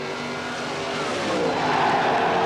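A funny car and dragster race down the drag strip at a 1977 drag meet, their loud engine roar building and swelling near the end of the short burst, with no talk.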